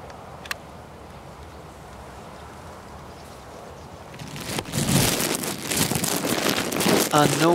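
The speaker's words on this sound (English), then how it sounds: "I actually had a plastic bag over the top of the camcorder to help keep the rain off it." Rain patters and crackles on a plastic bag covering a camcorder on a windy day, faint at first and then turning loud, dense and close for the last few seconds.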